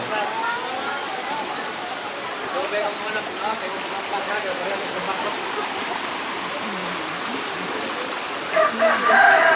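Floodwater rushes loudly and continuously past a broken bridge, a dense, steady roar with a rooster crowing somewhere in the background.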